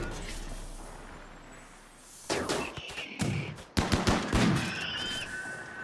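Colonists shooting in the Rimworld strategy game: a quiet stretch, then several sharp gunfire bursts and rapid shot clusters at moderate distance.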